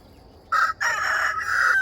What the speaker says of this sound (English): my second batch of chickens are out running around outside now